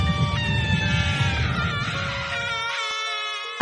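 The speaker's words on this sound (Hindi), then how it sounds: "चीखों की गूंज होने लगी।" Echoing, high-pitched screams in a haunted house scene, layered wailing tones that rise and waver over a low rumble, which cuts out near the end, leaving the screams ringing alone.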